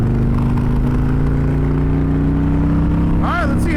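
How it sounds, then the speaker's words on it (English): A Harley-Davidson Electra Glide motorcycle pulled to wide open throttle on the highway, a loud, steady, close engine drone with a rising pitch and heavy wind rush, ending with a brief chirping whine. "That's a wide open throttle."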